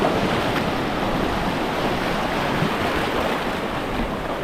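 Ocean waves break on a shore in a loud, continuous wash of surf with wind noise buffeting the microphone.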